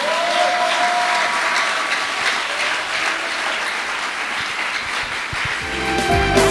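A church congregation at a French-language service breaks into loud, sustained applause that fills the room with dense clapping from start to finish.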